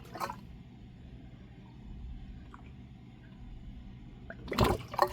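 Water gurgles and trickles from a faulty drain during heavy rain, a steady low wash with a louder gurgling burst at the start and a stronger surge near the end.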